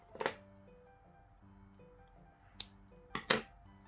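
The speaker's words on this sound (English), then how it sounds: "So I'm just going to cut that off" Scissors snip through crochet yarn in a few quick, crisp cuts: one early snip, then a pause, then two close together near the end, with a faint hum underneath.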